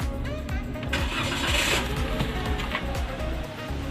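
A 2017 Toyota Calya G car engine cranks and catches, then settles into a steady, smooth mid-pitched running hum, heard close and loud.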